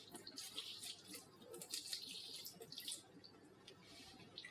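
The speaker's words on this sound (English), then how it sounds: "Let's pour some cold water on the heater." Cold water splashes and trickles onto the heater of a Whirlpool/KitchenAid dishwasher that is not heating, a faint continuous pour with hissy splashing.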